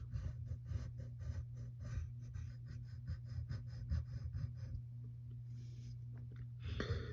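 A pen scratches across paper while drawing an egg-shaped cartoon eye, with short repeated strokes in a quick rhythm over a steady low hum, close and faint.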